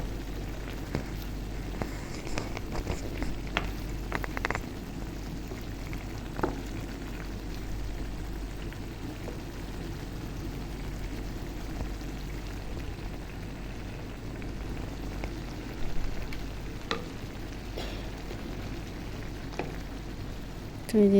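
Prawn curry simmers in a pan with a soft, continuous bubbling and faint crackle, low and steady throughout with small pops here and there.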